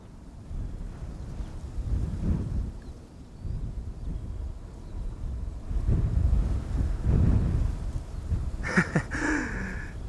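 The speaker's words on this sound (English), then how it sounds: "Now the near 20 knot wind is making following contrails a little bit challenging." Strong, steady wind of nearly 20 knots buffets the microphone at Amsterdam Schiphol airport, a continuous low roar that swells and eases, with a brief higher rushing burst near the end.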